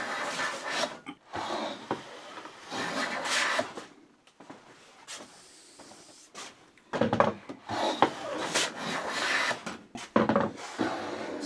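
Hand plane working a wooden saw bench, skipping briefly then cutting through: repeated close rasping strokes with short pauses, louder bursts near the end.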